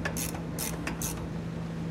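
Bolts tightened with a 9/16 box-ended wrench while fitting rear air helper springs on a vehicle, heard as three short metallic clicking strokes in steady rhythm over a constant low hum.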